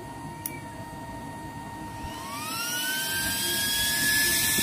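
A new mini 40x40mm fan blower, rated 1.1A and 13.2W, made for a used-oil stove, runs alone with a thin motor whine. Its pitch climbs and the airy rush grows louder midway as it spins up.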